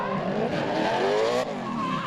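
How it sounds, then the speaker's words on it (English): Drift cars battle on track, a NASCAR-engined Nissan 370Z and a 400 kW RB25-powered Skyline R33, with loud sustained tyre squeal over high-revving engines, broad and continuous for about two seconds with a brief dip near the end. "NASCAR motor in that 370Z, 400 kilowatt RB25 in the 33."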